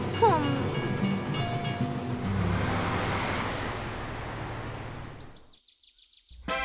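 Cartoon trains gather for a race in an animated children's show, with a rolling train rumble and horn-like tones that fade away, then a brief bright chime at the end.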